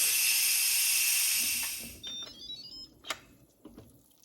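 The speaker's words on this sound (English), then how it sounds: "it just turned off and we're gonna release the pressure" An Instant Pot pressure cooker venting pressure with a loud, steady hiss that fades after about two seconds, followed by faint clicks and light rattling.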